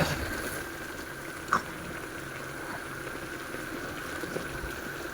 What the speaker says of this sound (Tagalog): Hintayin ko lang siyang kumulo.